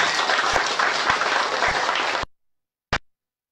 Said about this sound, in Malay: Satu tepukan gemuruh kepada beliau.